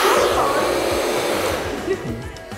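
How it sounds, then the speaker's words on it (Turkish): A hair dryer blows in a hair salon with a steady, loud, close rushing whoosh that holds for a couple of seconds and eases slightly near the end. "Dur fön çekiyor sana."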